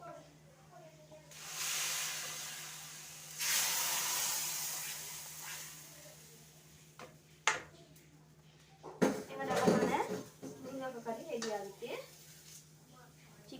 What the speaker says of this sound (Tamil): இப்போ நாங்கள் இந்த தாலிப்பை இதில் சேர்த்துக்கொள்வோம்